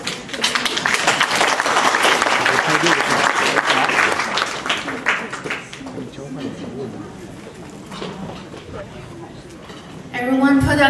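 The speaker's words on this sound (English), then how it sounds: "Everyone put another round of applause for both of the gentlemen." Audience at a company's tenth anniversary party applauds loudly and steadily for several seconds, fading into a thinner patter with scattered claps before a voice begins speaking at the end.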